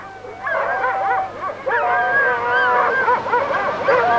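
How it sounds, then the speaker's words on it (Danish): Sled dogs of a Greenland sledge patrol whine, yip and howl in heavy rain, several overlapping voices rising and falling continuously and close by, with no barks standing apart from the whimpering chorus. "Hundene lider i regnen."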